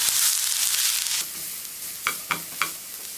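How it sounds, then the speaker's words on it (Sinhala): Onion, garlic and curry leaves frying in oil give off a steady close sizzle, with a few sharp scraping stirs of a spoon against the pan toward the end. "ඒ ටික දාලා සුවඳ එනකම් බෙද ගන්නවා"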